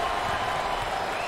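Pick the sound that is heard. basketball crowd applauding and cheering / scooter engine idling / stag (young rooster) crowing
basketball crowd applauding and cheering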